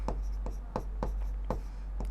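Pen or pencil scratching out a math solution on paper, close and steady, with six short strokes at a regular rhythm over a low constant background hum.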